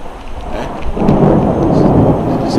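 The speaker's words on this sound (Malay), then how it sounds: "Kat sini masih hujan, belum sampai lagi." Rain falls near a forest reserve and an indigenous village, with a low rumble of thunder that swells partway through into a heavier, louder wash of downpour, and no speech.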